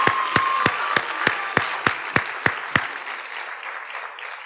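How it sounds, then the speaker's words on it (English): Applause at a school board meeting welcoming a new assistant principal: a dense crowd of clapping punctuated by about ten loud, evenly spaced individual claps up close, then the applause tapers off. "Let's give her a round of applause."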